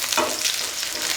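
Onion and garlic sautéing in oil in a pan for peanut chutney, a steady close hiss and crackle with a brief stir, no talking.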